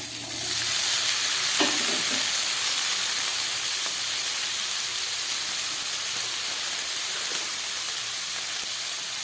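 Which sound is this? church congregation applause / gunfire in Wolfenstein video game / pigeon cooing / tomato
tomato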